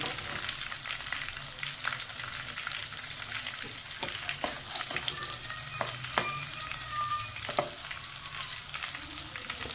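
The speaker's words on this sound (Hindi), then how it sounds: "ये देखें हल्की सी प्याज जो है हमारी फ्राई हो गई है" Onions with green chillies frying in a pan for daal chawal, a continuous close sizzle with repeated clicks and scrapes of stirring throughout.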